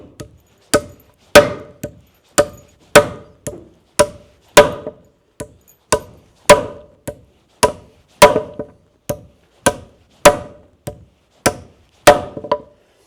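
A Martinez M1 hammer driving nails by hand into wood, about a dozen sharp, loud, evenly spaced blows roughly one per second, each with a short ringing decay.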